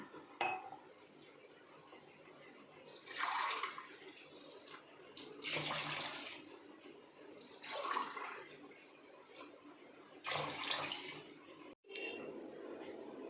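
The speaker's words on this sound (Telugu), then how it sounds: "నేను రెండు గ్లాసులు రైస్ తీసుకున్నాను కాబట్టి నాలుగు గ్లాసులు వాటర్ పోసుకుంటున్నాను" Water is poured from a glass into a rice cooker bowl in four separate splashing bursts, each a few seconds long and close by, with faint clinks of the glass between pours.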